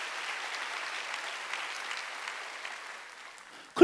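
Church congregation applauding during a Sunday worship service, a steady even patter of many hands clapping at moderate level for nearly four seconds before ending in a sudden louder thump.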